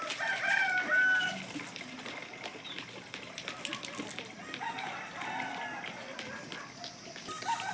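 Village chickens cluck and a rooster crows nearby, the calls fairly faint and mixed with distant background activity; a voice talks at the start.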